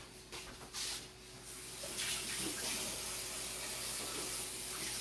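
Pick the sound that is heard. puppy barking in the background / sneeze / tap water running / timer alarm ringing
tap water running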